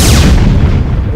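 A single loud booming missile shot from the video game Super Shot hits hard at the start, then a rumbling tail fades over about a second, with no talk.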